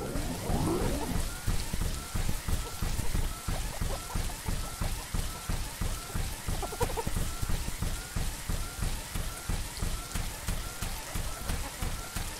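Steady heavy rain from the video game The Riftbreaker patters continuously and evenly for several seconds, a dense hiss of drops with faint rhythmic thuds underneath and no talk.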